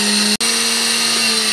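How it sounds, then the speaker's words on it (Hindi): An electric spice grinder whirs continuously at high speed, grinding korma masala spices to powder, loud and close with a momentary cut-out partway through. "ये ना जिसको यहाँ पे बंद कर दें और यहाँ पे ले आए और इसको पाउडर फॉर्म में मैं इसको ग्राइंड कर दूँ।"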